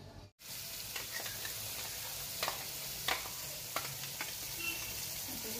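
Onion, tomato, coconut and ginger-garlic paste sizzle steadily in hot oil for a misal pav masala. A few sharp crackles and spatters break through the continuous close frying hiss.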